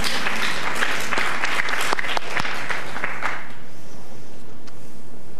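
Loud, dense applause from a lecture audience at a university talk, sharp close claps over a crowd wash that fades off toward the end, leaving near-silence.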